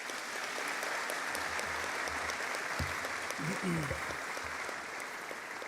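A graduation ceremony audience at Harpa concert hall applauds the graduates of Tækniskólinn, a steady, dense wash of clapping from a large crowd that holds throughout, with a voice speaking briefly underneath.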